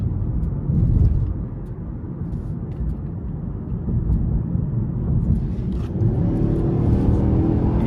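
A 2025 Hyundai Sonata SE in sport mode pulls hard, its engine and road noise a steady, loud low rumble heard from inside the cabin that swells toward the end.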